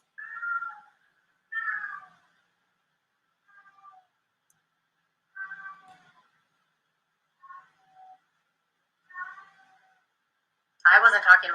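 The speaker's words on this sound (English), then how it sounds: "there's a cat meowing in the background" A cat meows several times in the background, short separated calls spread across the stretch, moderately loud, ending with a louder, harsher yowl.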